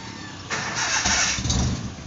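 A car engine cranks and catches, the starter whirring briefly before the motor fires into a loud, rough idle close to the listener, with no talking.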